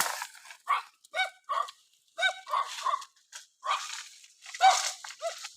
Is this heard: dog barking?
yes